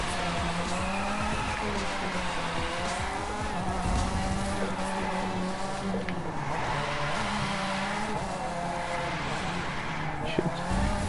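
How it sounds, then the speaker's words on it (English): A car drifts in The Crew 2 racing game, its engine droning steadily with long, continuous tire squeal across the whole stretch, loud and close, with talk over it at times. "Let's do some Tokyo Drift, guys."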